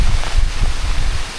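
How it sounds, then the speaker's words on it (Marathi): Strong wind with rain sweeping through a Sahyadri hill forest on the Kolhapur–Ratnagiri border, a steady roaring gust with low rumbling buffets and broad rustling hiss that hold at a constant loud level throughout. "पाऊस आणि वारा आलाय जोराचा."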